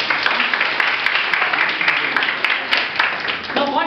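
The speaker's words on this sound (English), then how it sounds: "Please clap for us." Students and staff clap together in a commerce college classroom, a steady patter of hand claps that holds for several seconds before a voice breaks in near the end.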